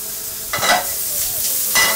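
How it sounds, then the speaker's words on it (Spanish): Chopped onion sautéing in virgin olive oil in a hot paella pan, a steady close sizzle broken by a few louder bursts as it is stirred, with no voices. "Dejamos que se vaya pochando un poquito. En cuanto esté pochada la cebolla"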